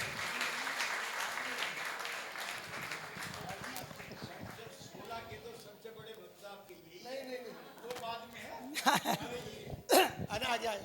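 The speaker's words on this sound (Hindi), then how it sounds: "सीपी जैन साहब के लिए एक बार तालियां तो बजाइए" Applause from a crowd at the ceremonial entry to a Digambar Jain temple, clapping mixed with talk over it, uneven and roomy, with a few louder bursts near the end.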